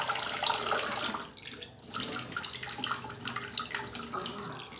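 Tap water runs into a sink during face washing, a steady close splashing flow that thins briefly partway through and then resumes with scattered drips and splashes.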